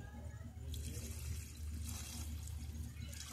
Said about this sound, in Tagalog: Lagyan lang siya natin ng tubig.